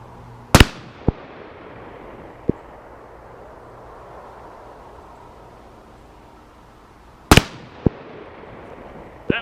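Two sharp, loud handgun shots fired at targets 50 yards away on an outdoor range, spaced several seconds apart. Each crack is followed by a faint distant report, and steady background noise fills the gaps between shots.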